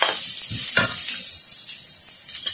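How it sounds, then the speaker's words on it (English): Spices hit hot cooking oil in a pan and give a steady, bright hissing sizzle that lasts throughout, broken by a few soft stirring clicks and scrapes. "Ayan, mainit na ang ating mantika, guys. And so, ilagay na natin ang ating mga ricado."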